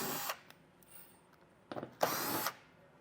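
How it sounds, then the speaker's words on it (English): A power tool with a 7mm socket spins out fasteners under a 2018 Lincoln MKZ, making two short whirring bursts separated by quiet pauses, close and fairly faint. "There's going to be 6 of these fasteners, and we can get them all removed with a 7mm socket."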